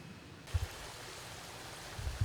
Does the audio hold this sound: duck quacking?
no